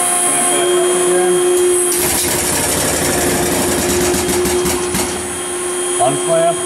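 Extrude Hone Profile 200 Series abrasive flow deburring machine clamping, a loud mechanical whir and hydraulic rush that builds and holds for a few seconds under a steady hum, then eases off, with a person talking over it.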